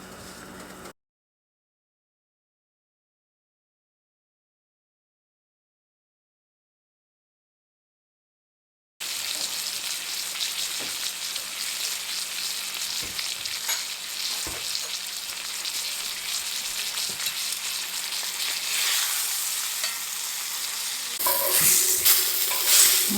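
Dredged chicken pieces fry in hot oil with a steady, crackling sizzle that runs unbroken after a long silent stretch, then swells louder near the end; no voices.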